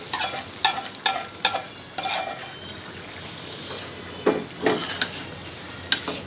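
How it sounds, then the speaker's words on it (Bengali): A spoon stirs fried spice paste into a vegetable curry with green chillies and nigella seeds, giving repeated scraping clinks against the pot over a soft background sizzle, with no talking. "এই ভাজা মশলাটা এখন এর মধ্যে অ্যাড করি।"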